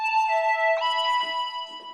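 An Omnisphere synth lead plays sustained tones through half-wet reverb with a long pre-delay, so the echoing tail swells in after each note. Steady and fairly loud, with no voices.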